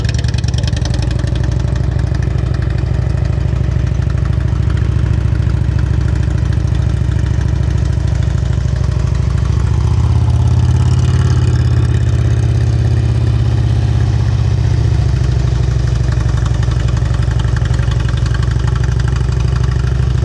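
A motorcycle engine idles steadily at low revs during slow-speed riding practice, a continuous close rumble holding for about twenty seconds with a slight swell in the middle and no talk over it.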